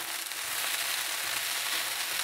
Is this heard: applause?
no